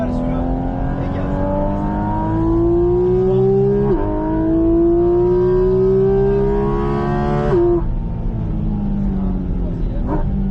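A race car on the Bresse circuit accelerates hard, its engine climbing in pitch through two quick upshifts with brief drops between, loud and close, while a voice talks over it.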